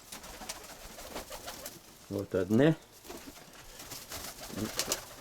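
Pigeons coo in a short burst of rolling low calls near the middle, surrounded by faint ambient noise, with a person speaking briefly at the start.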